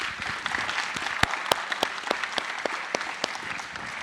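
A convention audience breaks into applause, a dense, sustained clapping crowd with distinct individual claps cracking sharply through the steady wash, continuing evenly without talk.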